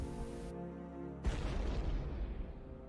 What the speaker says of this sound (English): the large cannon gets set off